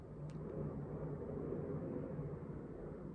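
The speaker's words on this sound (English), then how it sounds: "There's an aeroplane flying overhead where I'm sitting, and I can just switch my attention to that sound." An aeroplane passing overhead makes a steady, low broadband rumble that holds evenly throughout, heard alone with no speech.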